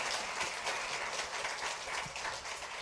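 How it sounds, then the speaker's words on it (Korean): A church congregation applauds during a Sunday service, a dense, steady patter of many hands clapping at moderate loudness for the full stretch, with no voices rising above it. "박수로 격려할까요?"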